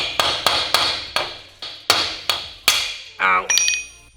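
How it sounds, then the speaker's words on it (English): A hammer strikes a chisel into metal during a Holden HQ LS swap build, about eight sharp, loud, evenly spaced blows, then a brief scraping clatter and a bright metallic ring at the end. "It just doesn't feel right chiseling metal."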